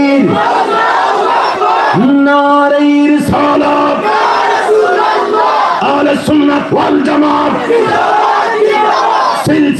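A large crowd at a live Bengali Islamic sermon gathering roars a loud, sustained takbir chant in unison, with amplified voices ringing over a reverberant public-address system throughout.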